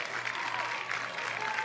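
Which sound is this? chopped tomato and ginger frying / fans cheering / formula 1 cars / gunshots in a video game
fans cheering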